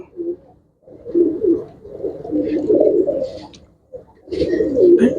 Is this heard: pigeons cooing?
yes